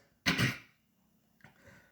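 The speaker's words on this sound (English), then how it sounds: "I'm sorry if my coughing sounds nasty" Two coughs heard close up, the first a harsh, stronger burst and the second a shorter, softer one about a second later.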